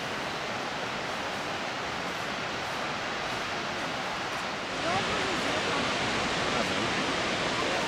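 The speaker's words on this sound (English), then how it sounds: "this is the highest waterfall east of the Rocky Mountains." A tall 411-foot waterfall in the mountains east of the Rocky Mountains gives off a steady, dense roar of falling water that continues unbroken and grows slightly louder partway through.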